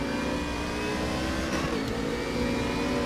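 A BMW Z4 race car engine in the RaceRoom racing game revs hard and steadily through the whole stretch, a loud, dense mechanical roar with a brief gear-shift dip, no talk.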